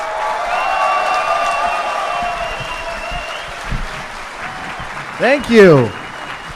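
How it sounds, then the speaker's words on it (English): Applause from a convention audience at a DEF CON hacker gathering greets a guest, a steady wash of clapping under a sustained tonal hum and a voice briefly speaking, ending with a few louder rising warbles. "Round of applause."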